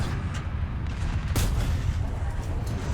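M4A1 tank cannon fire in the War Thunder video game, a sharp blast standing out once above a constant low rumble of engine and battlefield noise.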